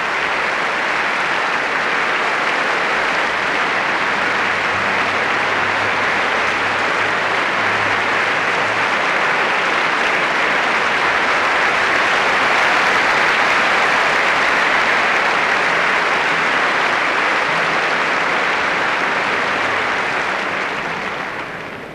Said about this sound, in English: everybody applauds